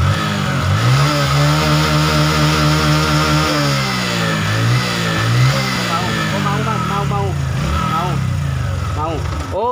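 A Honda Supra 125 FI motorcycle engine revs up and down under the throttle, loud and close, with rising and falling pitch sweeps and repeated quick blips toward the end.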